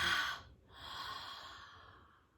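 One slow, deep exhale during a guided meditation, soft and close, a breathy rush that tapers off across a couple of seconds, with no voice over it.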